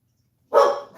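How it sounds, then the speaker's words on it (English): Dogs bark in one loud close burst after a half-second of silence, with a second bark starting at the very end. "So dogs are going crazy. Dogs are barking."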